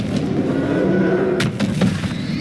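A Confringo spell blast in Hogwarts Legacy lands as a sharp bursting crack over rumbling combat noise, followed by a couple of smaller thuds and impacts in the fray.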